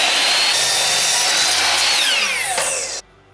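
A power saw cuts through a length of picture-frame wood, a loud, steady whining buzz running for about three seconds before cutting off abruptly into a quiet room.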